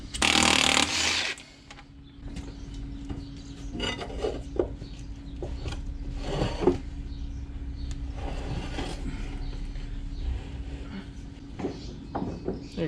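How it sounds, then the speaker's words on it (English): Four bolts being loosened on the arm of a Harvestore silo unloader: after a brief loud burst of noise, intermittent metallic scraping and clinks of a wrench on steel ring out against a steady low hum. "So we gotta loosen these 4 bolts."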